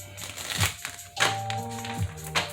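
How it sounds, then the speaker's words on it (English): A deck of tarot cards is shuffled in a few quick, crisp bursts of riffling and rustling, close up, over a soft, steady musical drone. "Let me get these with a couple of shuffles."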